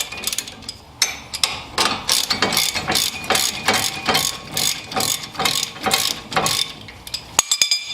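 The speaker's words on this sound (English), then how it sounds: "After you break them loose, you go ahead and just use a ratchet." A hand ratchet spins out brake caliper bolts on a Ford Freestyle front brake, giving a long run of rapid, close clicking strokes in steady bursts, with a brief pause near the start and a short metallic clank at the end.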